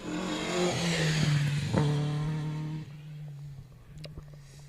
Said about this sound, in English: We've got an escort coming towards us now